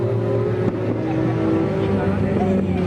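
A black Nissan Skyline GT-R R32 with a custom barrel plenum chamber and large twin turbos rumbles at a tuned-import car meet. A steady, deep engine drone holds for about three seconds, with no sharp revs.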